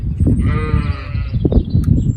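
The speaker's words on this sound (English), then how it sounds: "the sheep are making such a racket" Sheep bleat repeatedly outdoors beside a small-space garden, loud, drawn-out calls layered over steady wind and outdoor rumble, with a few shorter cries near the end.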